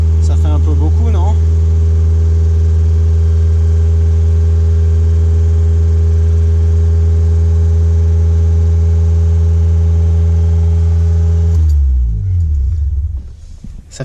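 A Volkswagen Golf 2 GTI 16V engine, started after a year, runs at a loud, steady rumbling idle for about twelve seconds, with a brief voice early on, then shuts off and the sound decays.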